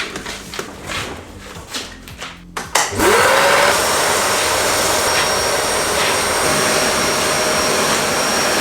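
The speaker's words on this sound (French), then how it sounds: "on va passer un coup d'aspirateur pour être sûr d'enlever toutes les poussières" A vacuum cleaner starts up with a sharp whine and settles into a loud, steady roar as it sucks dust off a workshop floor before painting. Softer handling noises come first, then the motor runs on alone.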